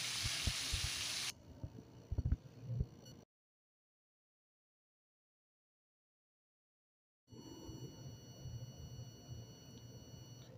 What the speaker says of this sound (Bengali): গ্যাসের ফ্লেমটা লো টু মিডিয়ামে রেখে ভালো করে চালতার গায়ে জলটাকে এভাবে নাড়াচাড়া করে শুকিয়ে নিতে হবে